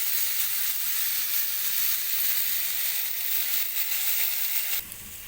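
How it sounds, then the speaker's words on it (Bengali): Potato and bitter gourd fry in a spoonful of oil, giving a constant bright sizzle and hiss close at hand that drops slightly in level just before the end; no voices. "আমি এখানে ওয়ান স্পুন তেল দিয়ে দিয়েছি আর করলার আলুটা হালকা করে ভেজে নেব"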